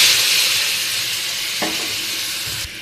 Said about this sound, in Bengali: চিকেনটা ভেজে নিচ্ছি।